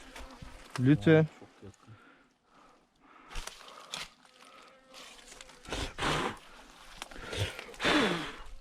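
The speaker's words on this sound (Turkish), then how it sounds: "Arılara bak. Arılar sardı." Bees buzz close by in repeated bursts that come and go, while a person speaks a few words and breathes nearby.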